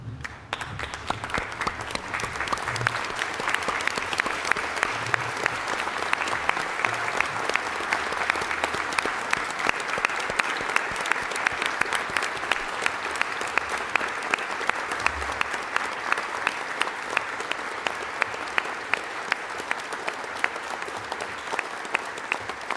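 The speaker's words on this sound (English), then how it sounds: "have a final round of applause in recognition of the achievements of this morning's graduates" A standing audience at a university graduation ceremony gives a long final ovation for the graduates, dense, even applause sustained for over twenty seconds with no break.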